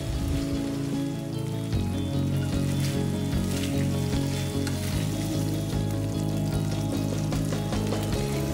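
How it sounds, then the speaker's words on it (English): Fish pieces sizzle steadily in hot oil in a pan while being fried for a stir-fry hoisin fish dish, a dense, continuous crackle with no talking. "And fry them on both the sides."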